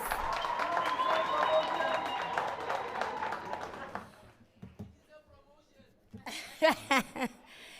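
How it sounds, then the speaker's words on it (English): A room full of workers at a broadcaster's Workers' Day celebration claps for themselves, a brisk round that fades after about four seconds into scattered chuckles, murmurs and a few voices. "please give yourselves a round of applause"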